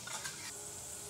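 Ginger and garlic, finely chopped, sizzle steadily in hot oil for egg rice, a continuous close frying hiss with a few stirring scrapes and no talking.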